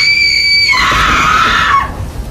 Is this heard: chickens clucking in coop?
no